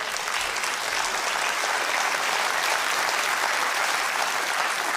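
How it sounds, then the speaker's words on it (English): A television studio audience claps steadily during a live IQ test broadcast, a dense continuous wash of applause lasting throughout, with no voices over it. "if you want to clap yourselves, that's absolutely fine"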